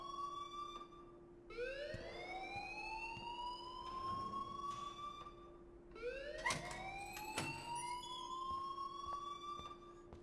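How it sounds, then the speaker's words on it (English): Alarm ringing in Life Is Strange, a rising electronic siren-like wail that sweeps up twice and holds steady, loud and continuous against a constant hum. "please turn off that alarm"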